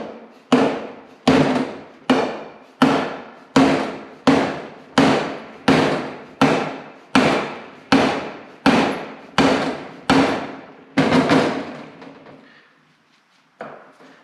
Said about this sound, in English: with a dead blow hammer, I'm not a big fan on beating on it